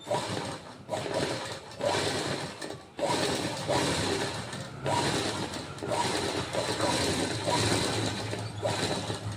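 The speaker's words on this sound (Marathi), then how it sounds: "अगदी सावकाशपणे शिलाई करायची असते" A sewing machine stitches a Prince-cut blouse slowly, its needle mechanism ticking in short bursts with brief pauses between runs, close and fairly loud.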